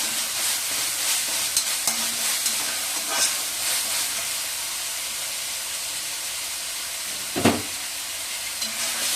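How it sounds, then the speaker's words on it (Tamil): Tomato and curry leaves sautéing in an iron kadai give a steady close sizzle and hiss, broken by occasional scraping stirs and one louder clatter near the end, with no voices. "தக்காளி போட்டுக்கலாம் கருவேப்பிலை போட்டுக்கலாம் நல்லா வதங்கிக்கணும்"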